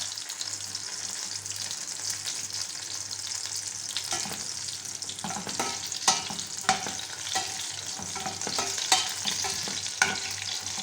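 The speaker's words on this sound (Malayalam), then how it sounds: "കടുക് പൊട്ടാൻ തുടങ്ങി." Mustard seeds and two dried red chillies splutter in hot oil for a pachadi, giving a steady close sizzle. Sharp pops and crackles grow more frequent toward the end, and no one speaks.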